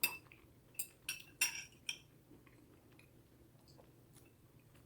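Cutlery clinks sharply against a dish several times in quick bursts while someone eats turkey stroganoff with noodles, then settles into quieter chewing and faint scrapes.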